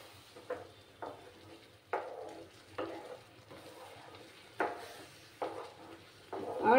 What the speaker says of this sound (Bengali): এবার আমি সুজিটা দিয়ে দিচ্ছি। দিয়ে ভালো করে নাড়াচাড়া করে নিতে হবে।